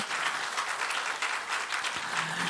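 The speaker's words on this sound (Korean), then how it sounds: "감사하다 박수 한번 해주시죠." A church congregation gives steady applause during a Sunday service, even clapping from many hands at a moderate, somewhat distant level.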